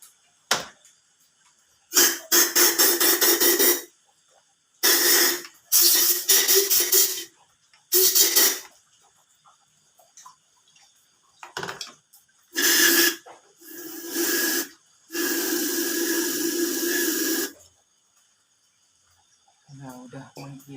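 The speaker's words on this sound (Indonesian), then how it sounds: "Kita semprot." Cleaner sprayed in repeated bursts of sharp, loud hiss onto the intake manifold of a Honda Vario 125 scooter, with short pauses between sprays and a brief sound near the end.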